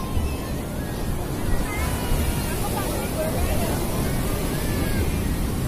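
Surf crashes and rolls steadily onto the shore at Jetis Beach, Purworejo, in a continuous wash of noise, with children's excited voices chattering underneath and wind buffeting the microphone.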